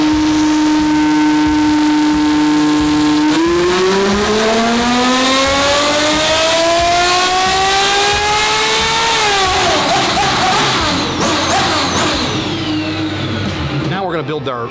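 A twin-turbo Ferrari F12 engine on a dyno climbs from a steady loud idle into a long rising rev, holds high, then drops back with rough crackling and a fading roar.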